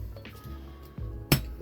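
Glass clinks sharply once near the end as Taber Born bourbon from Bridgeland Distillery is poured, preceded by faint handling noise and a soft thud in a quiet room.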